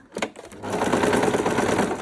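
A home sewing machine stitches a zipper onto a makeup bag: after a few starting thumps, a fast, steady mechanical whirr runs loud and close to the end.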